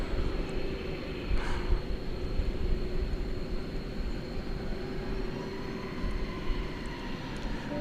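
An American Airlines Boeing 737-800 at DFW Airport, a steady low engine rumble heard from a distance, broad and continuous with no voices over it.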